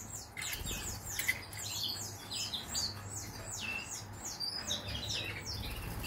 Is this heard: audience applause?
no